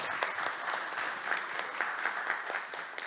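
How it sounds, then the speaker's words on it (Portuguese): A crowd at a union inauguration ceremony applauds the newly elected officers, producing a soft, continuous wash of clapping heard from a distance that holds steady for a few seconds. "Uma salva de palmas aí para os eleitos."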